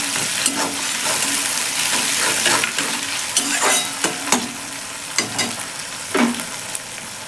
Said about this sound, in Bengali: রসুনটাও পেঁয়াজের সঙ্গে ভাজা হবে।